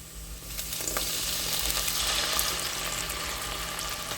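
Cooking wine hitting a hot pan sizzles steadily and fairly close, a broad hiss that swells after the first half second and holds without speech.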